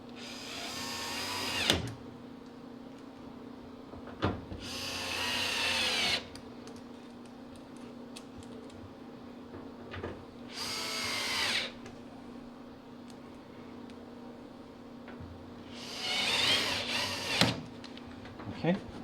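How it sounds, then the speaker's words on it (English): Power drill driving Phillips-head screws back into a GE gas dryer during a propane conversion, four short loud whirring bursts separated by quieter pauses, close up. "we're going to put these 4 screws back in, and that is that weird Phillips head."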